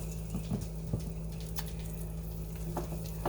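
Beef for stroganoff sizzles in a 12-inch skillet, a soft, fairly quiet crackle with scattered pops over a low steady hum.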